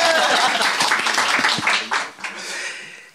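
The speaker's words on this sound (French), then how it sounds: "On applaudit s'il vous plaît." Loud applause from an audience, dense clapping that fades out over a few seconds while people talk over it.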